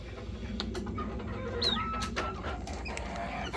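Chicks moved into a coop peep and cheep in short, high calls over a steady background hum, with several quick chirps scattered throughout.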